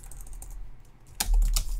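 Keys clatter on a computer keyboard during a C++ programming lesson, a sparse few taps at first, then a denser, louder burst of quick keystrokes near the end, close and with no talk over it.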